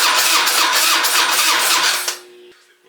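Harley Dyna motorcycle with a newly installed carburetor starting up, the engine firing and running loud and rough for about two seconds before cutting out, leaving a faint hum.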